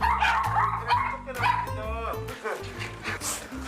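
Several small dogs at home barking loudly and repeatedly in eager, overlapping yips and woofs close by, with people speaking over the din.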